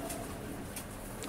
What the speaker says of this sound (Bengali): পিজনগুলোর মধ্যে আছে ছিরাজি, অনেক কালারের দেশি জাতের কিছু কবুতর আছে